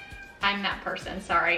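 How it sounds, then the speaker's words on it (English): A pet cat meows loudly and insistently in a home kitchen, drawn-out calls overlapping with a person talking nearby. "that is my cat saying hi"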